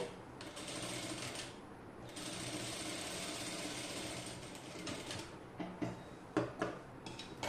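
A sewing machine stitches the sleeves onto a small child's crop top, running in a steady continuous whir for several seconds before breaking into short, irregular bursts of stitching near the end.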